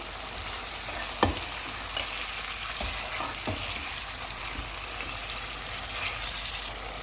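Chicken sizzles and fries steadily in a pan over full heat, with a few sharp scraping knocks of stirring standing out against the continuous hiss. No one speaks.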